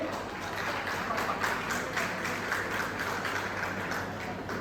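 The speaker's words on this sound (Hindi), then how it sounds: "ताली तो बजाइए।" An audience at a student felicitation ceremony in Karauli claps for honoured students, giving soft, steady applause at a moderate distance under a faint background hum.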